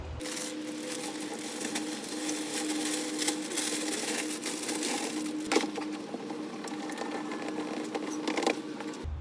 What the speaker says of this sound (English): All I have to do is spin it and it continues to tumble and mix the stuff inside